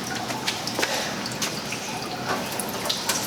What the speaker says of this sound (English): rinse off my gloves here